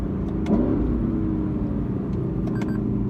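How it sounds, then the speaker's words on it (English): A 2018 Lexus LC 500 engine rumbles steadily up close on a downshift with a throaty low tone, holding a constant drone throughout, no voices present. "the downshift sounds so good in this thing"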